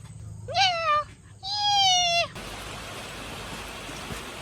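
Two high, drawn-out kitten meows, close and clear, followed by a steady hiss like rain or running water.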